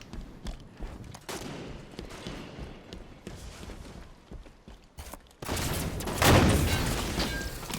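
Heavy gunfire from a Halo 5 multiplayer match: dense rattling bursts build through the first few seconds, then a louder stretch of sustained firing and a boom near the end.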